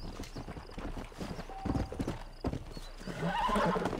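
A horse whinnies loudly in Red Dead Redemption near the end after several hoof clops and thuds, set against quiet game ambience.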